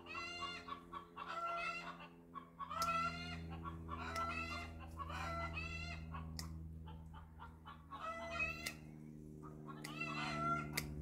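Chickens in a garden coop cluck and squawk in repeated bursts, fairly close, over a steady low hum, with a rooster-like call among them.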